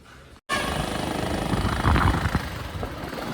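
After a brief cut, a loud, steady engine drone and road rumble fill the clip, riding a motorcycle in Pokhara, Nepal.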